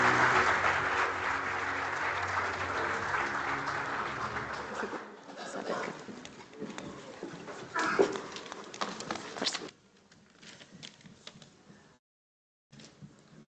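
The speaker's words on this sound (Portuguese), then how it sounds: "Um aplauso a todos, por favor." Audience clapping at a security conference, dense applause for about five seconds, then thinning into scattered claps and murmured voices before fading out.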